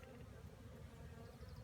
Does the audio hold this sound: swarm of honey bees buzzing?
yes